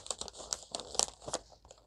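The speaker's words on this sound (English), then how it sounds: "crinkling" Crinkling from a wrapped crochet basket being unwrapped, a quick run of dry, rustling crackles close to the microphone with no speech.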